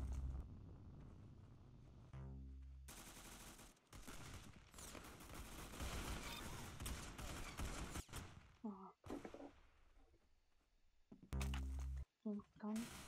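Rapid gunfire bursts rattle through a Roblox Arsenal match, dense automatic fire in loud close volleys with short gaps, while people talk over it.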